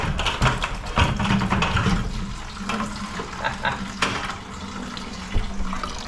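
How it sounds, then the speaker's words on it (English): Water running back out of a pipe into a bucket during a commercial bathroom renovation, a steady close splashing trickle with scraping and knocking work noises over it. "So that's the little water that's running back this way."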